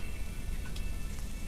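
Soft, steady rain pattering on a surface, a quiet continuous hiss with faint scattered drops.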